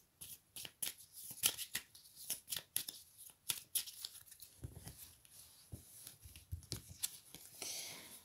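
A deck of oracle cards being shuffled by hand, a quiet, close series of quick riffling and flicking bursts in an irregular rhythm, with soft rustles between them.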